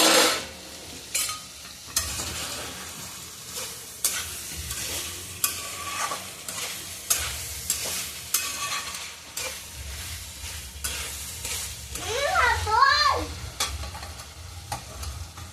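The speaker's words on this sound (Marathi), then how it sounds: "आपण आता झाकण काढून भाजीला एक वेळेस हलवून घेऊयात" Vegetable curry being stirred in a pan after the lid comes off, with regular scraping strokes of a spoon over a soft background sizzle, close and moderately loud.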